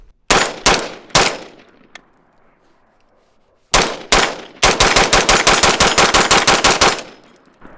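An AR-15 rifle with a PWS upper firing nearby: a few loud separate shots, a pause, then two more and a rapid burst of about a dozen sharp cracks.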